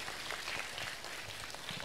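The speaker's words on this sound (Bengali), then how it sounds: "তোমরা সবাই জোরে একটা তালি দাও তো" Ceremony audience at a scholarship event in Jamalpur, Bangladesh, applauding together: a dense, steady wash of many hands clapping through the whole stretch, fairly loud and continuous with no voices on top.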